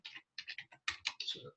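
Keys clatter on a computer keyboard in short quick bursts of a few strokes each, close up and quiet, with no voices.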